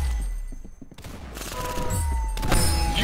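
Rapid game gunfire from Roblox Arsenal, a dense volley of sharp shots and thuds over a loud, busy background mix of sound effects and music, with no talking.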